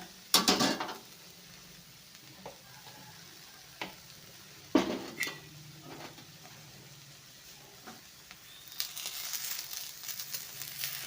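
Seeds roast and crackle in an oiled pan, with sizzling and a few sharp stirring scrapes and knocks against the metal, louder bursts near the start and middle, and busier frying toward the end.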